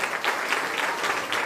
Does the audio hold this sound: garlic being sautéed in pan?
no